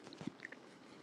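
Quiet chewing of fries close to a microphone, a few soft crunchy bites in a short burst, heard alone without talk.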